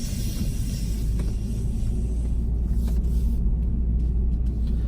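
A car pulls out of a car park and rounds a corner, heard from inside as a steady, loud low engine rumble and road drone with no speech.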